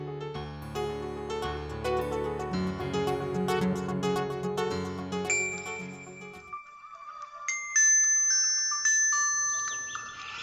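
A mobile phone ringtone plays a bright, melodic electronic tune with chiming notes, loud and close, shifting to higher sustained tones toward the end, with no voices.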